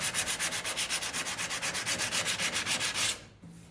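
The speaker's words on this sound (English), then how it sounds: "even if I sand that down even more, like how I should" Someone sands a GMC truck body panel by hand in quick, even back-and-forth strokes, about twenty close rasping passes that stop abruptly near the end.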